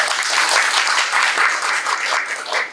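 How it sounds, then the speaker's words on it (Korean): An audience at a National Assembly Library policy colloquium on AI legislation in Korea gives a short burst of dense, even applause, steady and fairly close, with no talking over it. "박수 부탁드리겠습니다."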